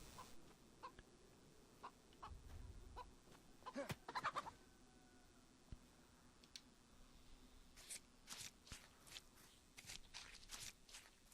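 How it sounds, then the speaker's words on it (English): A chicken in the survival game DayZ clucks in short, faint bursts scattered across the scene, with soft shuffling and movement noises between calls and a few louder clustered clucks near the end. "I see you, chicken."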